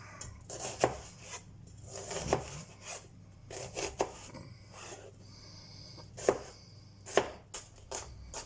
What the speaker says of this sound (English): I will chop this onion up